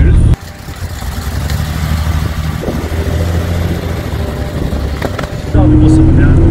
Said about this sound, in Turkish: Egzoz patırtıları çok güzel.